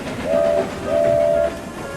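Steam engines at work on a railway on the island of Sodor at Christmas, with two clear whistle blasts, a short one then a longer one, over a steady rumble of rolling trains.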